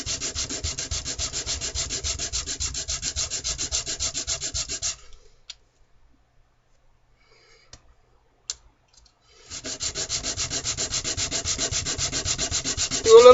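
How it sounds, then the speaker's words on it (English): A wooden wedge for knife scales is sanded by hand in steady, rapid back-and-forth strokes, close and dry, stopping for a few quiet seconds with faint clicks before resuming at the same brisk pace. "do a little more sanding"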